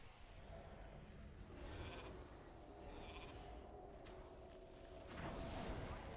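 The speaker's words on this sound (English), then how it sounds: "That was nice spam sheeps on me." Sheep bleats from a polymorph spell ring out in a World of Warcraft arena fight, quiet bursts set among faint spell whooshes and game effects.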